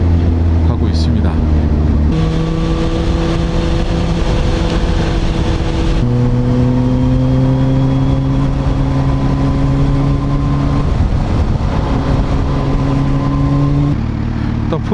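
A Kawasaki motorcycle on the road toward Seoul, its engine holding steady tones that step up and down with gear changes and wind rush, someone talking over it.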